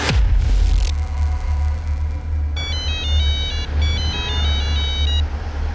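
A phone ringtone plays while a call is placed to dad, a repeating electronic melody of bright tones over a constant low rumble, starting partway through and continuing to the end.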